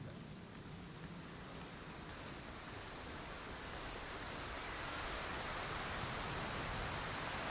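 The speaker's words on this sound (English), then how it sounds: "Raining, it's pouring." Heavy rain pours in a mountain exploration video game, a soft, even wash of noise that slowly swells over several seconds with no talk.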